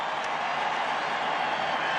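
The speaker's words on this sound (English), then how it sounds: "It's a Redskin crowd." Steady roar of a Redskins crowd in the stadium at Super Bowl XVII against the Dolphins, an even, continuous wash of distant cheering with no breaks.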